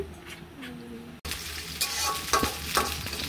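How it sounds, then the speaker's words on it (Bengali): Quiet hiss suddenly jumps into loud, crackling sizzling as onions hit hot oil, with scattered pops continuing. "পেঁয়াজগুলোকে দিয়ে দিলাম। এবার এগুলোকে ভেজে নেব।"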